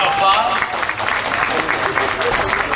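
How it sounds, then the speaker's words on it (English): Audience applauding a senator being introduced at a campaign kickoff event, steady dense clapping filling the room throughout, with an announcer's voice over it. "Round of applause."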